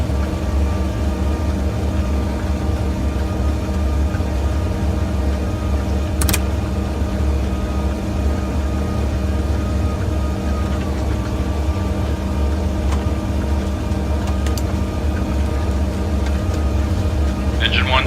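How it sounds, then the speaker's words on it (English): A simulated DC-3 radial engine, number one, cranks and catches in a flight simulator, giving a steady low droning rumble throughout with a couple of brief clicks, while someone talks over it. "Engine 1 turning."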